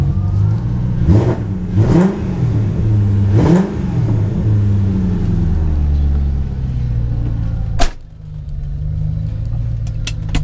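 A V8 engine in a BMW E30 revs loudly three times in quick bursts, then settles into a rumbling idle, ending with a sharp click and quieter hum.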